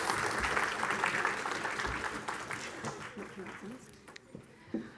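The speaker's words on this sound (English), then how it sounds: "a round of applause, please, for our lovely animal holders." An audience at a children's winter lecture applauds, loud clapping at first that gradually thins and fades into scattered claps and murmuring by the end.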